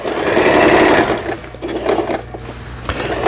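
A Lion SS308 sewing machine runs a straight stitch, its fast motor whir loud and close, slowing and pausing briefly before picking up again in short bursts.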